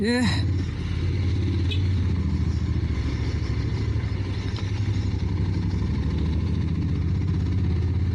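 A heavy bus engine rumbles and idles continuously at close range on a narrow mountain road in Montenegro, low and steady, with a brief tonal whine at the start and people talking underneath.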